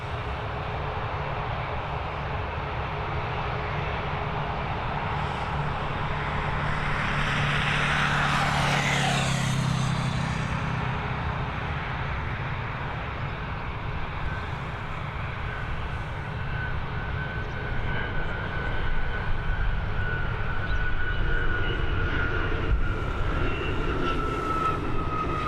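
A private aircraft comes in to land at Dublin Airport, its engine drone rising and sweeping past nearby around the middle before settling into a steady rumble that grows louder toward the end, with no voices.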